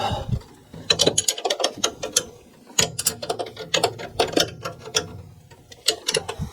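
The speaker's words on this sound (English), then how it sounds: "that bolt isn't slipping on the other side as I tighten it" Ratchet wrench tightening the bolts on a water circulation pump, bursts of rapid metallic clicking in quick, uneven runs, loud and close, with short pauses between strokes.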